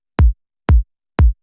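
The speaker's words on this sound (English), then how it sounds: "We're gonna start with a simple soft kick." A soft, round kick drum sample from a smooth kick pack, played three times at an even pace, each a short deep thump with a quick attack, isolated and clean.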